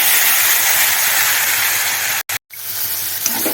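Potatoes dropped into hot oil with turmeric and asafoetida, a loud steady hissing sizzle that briefly cuts out, then resumes strongly and continues close up.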